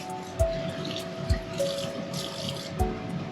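Water running from a kitchen tap while avocado toast is prepared, a soft steady splash with a few dull thumps, fairly quiet and with no talk.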